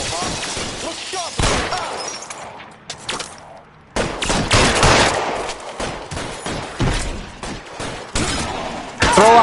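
Bursts of gunfire break out in a shootout in the video game L.A. Noire Remastered, with loud clustered shots and cracks separated by brief pauses.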